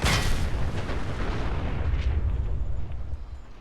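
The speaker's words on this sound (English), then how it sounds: "Okay, so the explosion's scary. That exploded really quickly." A heavy explosion in the Fallout 4 video game bursts loud at the start, then a deep rumbling roar rolls on and slowly fades.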